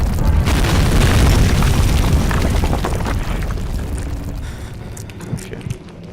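A structure collapses in the horror game Amnesia: The Dark Descent with a loud, deep rumbling crash that rolls on for several seconds and slowly fades into scattered debris clatter.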